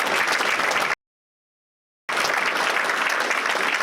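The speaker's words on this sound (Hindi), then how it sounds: "AWPL के कंपनी के प्रोडक्ट के लिए जोरदार तालियां बजनी चाहिए" Audience applause at a company training meeting in a Lucknow hotel: dense, loud clapping from a crowd that cuts off abruptly for about a second and then resumes just as strongly.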